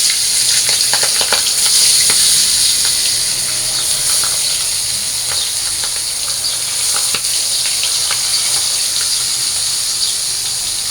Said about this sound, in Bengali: প্রথমে আমি মাছটা ভেজে নেই